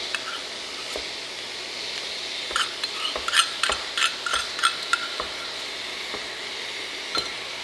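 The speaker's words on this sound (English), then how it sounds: "So I just mix in this mayo and then I do the hot sauce just as desired" Mayo and hot sauce being stirred together in a bowl for a spicy bacon cheeseburger casserole, with soft wet scraping and clustered utensil clinks against the bowl, growing busier midway before settling, fairly quiet overall.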